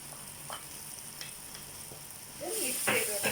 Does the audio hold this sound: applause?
no